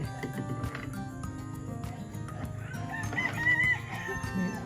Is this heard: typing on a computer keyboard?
no